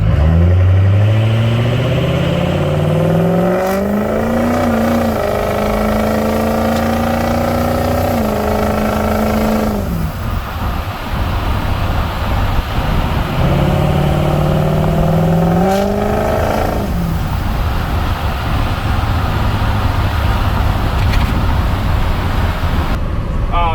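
A Ford 6.0 Powerstroke diesel truck engine with the turbo off revs up and winds down repeatedly, a deep rumbling roar with climbing pitch, loud and close, with a voice speaking briefly.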